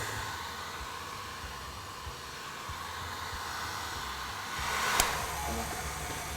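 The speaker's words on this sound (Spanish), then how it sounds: "luego vamos a dar otros 20 segundos más de calor con nuestro secador de pelo" A handheld hair dryer blows a steady, even rush of hot air onto buttercream frosting for cake decorating, a constant close whoosh that swells slightly near the end, with no voices.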